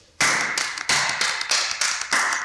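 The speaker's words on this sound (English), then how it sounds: "I clap my hand continuously" Repeated hand claps at a debate final, struck in a steady run of sharp bursts roughly every third of a second, each ringing briefly; loud and close, with no talking over them.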